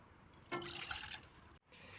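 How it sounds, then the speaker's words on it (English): Water poured from a measuring cup into a cooking pan, a steady splashing trickle for about a second, then a brief pause and a quieter continuing pour, close and fairly soft. "measure 3 cups of water into that pan"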